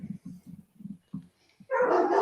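A dog barks in a quick series of short, muffled woofs from a short distance, then a louder burst of mixed noise that sounds like a crowd or room at the end.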